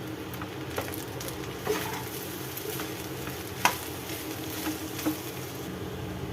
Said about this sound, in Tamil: இப்போ இது எல்லாத்தையும் நல்லா மிக்ஸ் பண்ணிக்கலாம்.